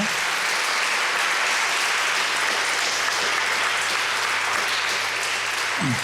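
A concert audience claps steadily for about six seconds, a dense and even wash of applause with no talk over it.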